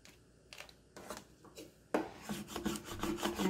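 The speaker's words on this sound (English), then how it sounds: "And scrape it down." Transfer tape scraped down onto a dollar store blank, a run of quiet close raspy rubbing strokes that grow firmer and denser toward the end.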